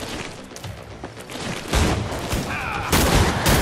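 Gunfire from the video game Killing Floor 2 sounds as a few sharp bursts and booms with dense in-game action around them, loud and close, with a brief voice in the mix.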